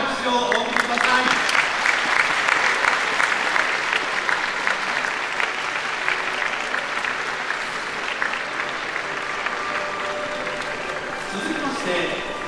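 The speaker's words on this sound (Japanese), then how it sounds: "どうぞ大きな拍手をお送りください。" Crowd applause at the 2023 Takamatsunomiya Kinen horse race awards ceremony, a dense, sustained clapping from many spectators that holds steady throughout with a faint voice occasionally underneath.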